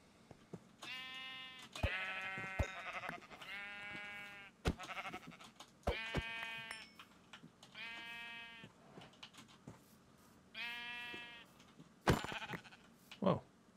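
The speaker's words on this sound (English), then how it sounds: "Come here, sheep." Sheep in Minecraft bleat repeatedly in clear wavering calls, several in a row at moderate volume, with soft clicks and game noises between them.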